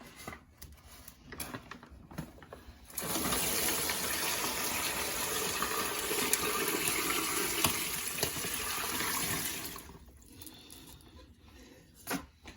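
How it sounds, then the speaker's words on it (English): Water is poured in a steady, gushing stream for about seven seconds into a container holding a turkey brine, with quieter handling sounds before and after. "I'm actually just going to pour my water right into here, just so I can get everything off of the sides"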